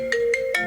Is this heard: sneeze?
no